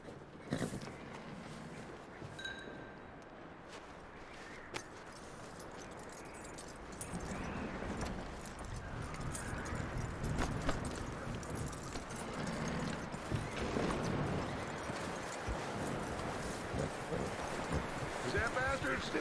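Horse hooves clip-clopping in the Red Dead Redemption 2 video game, a steady rhythmic trot heard under ongoing character dialogue and outdoor ambience.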